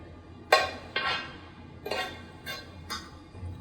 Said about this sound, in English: we'll give this a quick stir. You want your butter to coat all the little pieces of bread